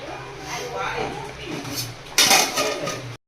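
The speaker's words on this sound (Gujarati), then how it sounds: "ફરી એકવાર ઢક્કન ઢાંકી દઈશું" A metal lid clanks back onto a cooking pot of desi chicken, one sharp clink near the end after a stretch of muffled kitchen noise and low background sound.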